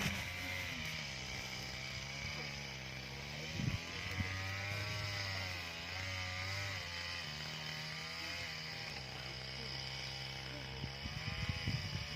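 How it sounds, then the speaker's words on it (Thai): A small engine-driven grass trimmer cutting down lettuce in a field whines continuously at a distance, its pitch rising and falling as it revs, with occasional rustling cuts. "เท่าแก่ใช้เครื่องตัดหญ้าตัดทิ้งเฉย"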